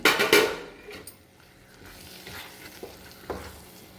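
Almonds stirred and fried in a pan for dates halwa: a loud scraping rattle at first, then a soft sizzle with occasional light knocks of a utensil.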